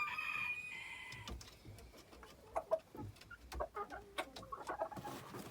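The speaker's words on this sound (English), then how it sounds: "These are my other little dwarf chickens." Small dwarf chickens cluck in a burst of short, sharp, irregular calls, close by and fairly loud, with a brief higher squawk near the start and no talking.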